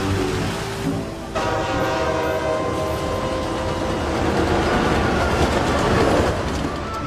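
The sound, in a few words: passenger train running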